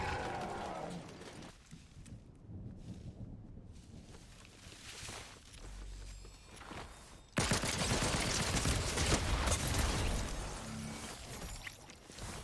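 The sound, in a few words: Mythic Tactical Pistol firing rapidly in Fortnite video game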